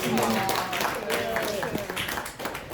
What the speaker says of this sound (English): just really quick round of applause if you guys don't mind